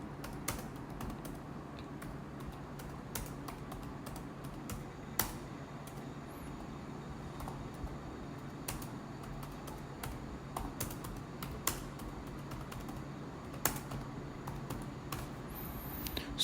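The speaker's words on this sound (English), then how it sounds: "I'm going to type in" Rapid, steady keystrokes on a computer keyboard, close and fairly quiet, with occasional sharper clicks standing out over a continuous patter and no talk.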